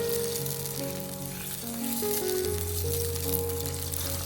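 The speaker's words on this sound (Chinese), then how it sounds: "炒出红油，炒香后加入适量的清水，然后开大火将其煮开" Chili sauce fries in oil with a steady close sizzle, then water is added and it bubbles up toward a boil, over gentle background music with no talking.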